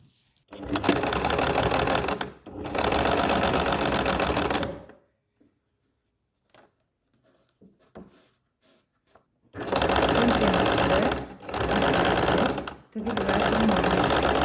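A sewing machine stitches a bag in a close, loud mechanical whir, running in two runs of bursts separated by a quiet gap with faint handling noises.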